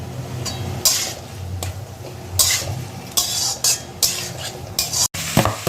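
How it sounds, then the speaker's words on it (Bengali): Boiled chicken and vegetables are stirred in a sizzling pan for Hakka noodles, repeated loud scraping strokes of a spatula against the metal over a continuous close frying hiss, with no talking. "এবার সেদ্ধ করা চিকেনগুলো সবজিগুলো মিশিয়ে দেবো।"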